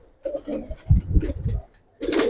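Giribaz pigeons of an old breed coo in short bursts in a loft, with low thumps from movement close by and a louder flurry at the end.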